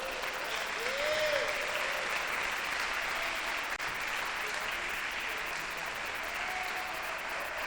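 A church congregation applauds steadily through a long burst of clapping that stays even and dense, with a brief vocal tone near the start.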